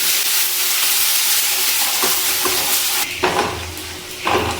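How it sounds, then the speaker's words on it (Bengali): A large chopped onion fries in oil in a pan, giving a steady close sizzle with a few stirring scrapes and a louder burst of frying near the end. "পেঁয়াজটা ভেজে নিচ্ছি।"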